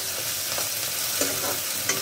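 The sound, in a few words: onion frying with ginger, garlic and green chili paste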